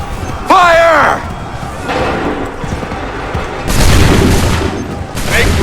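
In an Assassin's Creed III battle, musket volleys boom in loud bursts. Someone shouts orders between them, and the din of battle runs throughout.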